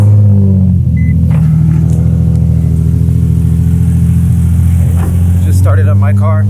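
Turbocharged K20A engine in an Acura RSX idles loud and close after start-up, a steady low rumbling drone with a brief rise near the end.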